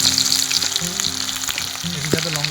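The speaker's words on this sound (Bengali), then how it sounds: "তেল গরম হয়ে গেছে, পেঁয়াজগুলো দেবো।" Onions dropped into hot oil give off a strong, close, crackling sizzle that stays steady throughout, with faint background clinks and hums underneath.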